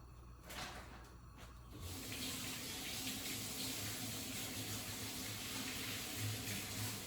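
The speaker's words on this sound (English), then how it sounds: "Just had to wash my hands" Hands are washed under a running kitchen tap: a brief clatter and splash, then a steady, close rush of water that fills the rest of the clip.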